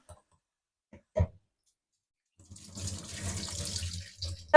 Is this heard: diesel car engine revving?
no